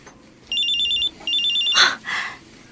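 A cellphone rings for an incoming call: two loud, close bursts of trilling electronic ring tone, each about half a second, followed by a brief rustle and click as the phone is handled.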